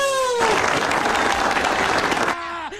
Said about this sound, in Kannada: ಹಂಗೆ ನೋಡ್ತಿದ್ರಲ್ಲ ಹೊಡ್ರಿ ಚಪ್ಪಾಳೆ